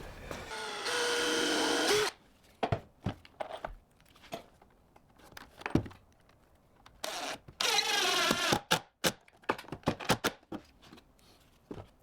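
Power drill driving screws into a Kubota BX2380 ballast box, two bursts of high whirring drill noise separated by clattering, tapping and handling of parts, with no talk.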